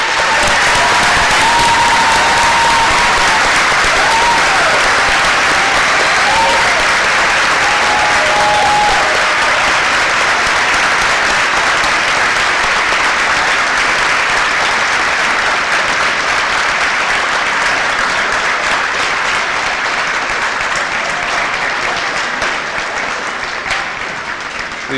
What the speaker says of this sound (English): Please join us in a big round of applause to thank the veterans and active personnel here with us today.